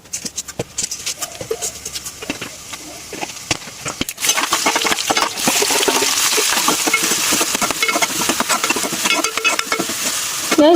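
Onions fry in a pan for tempering, starting with scattered clinks and light stirring and then swelling into a loud continuous sizzle that fills the rest of the moment.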